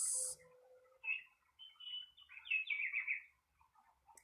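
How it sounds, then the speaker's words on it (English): Amazon rainforest ambience, with scattered bird chirps and short twittering calls against near silence, soft and somewhat distant, building into a brief busier run of calls before fading. "From my virtual jungle, the Amazon, the rainforest."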